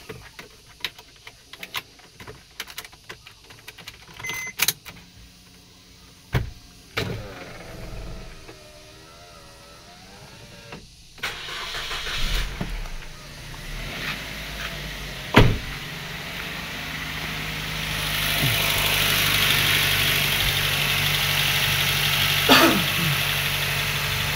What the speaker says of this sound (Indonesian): Kita panasin dulu mobilnya.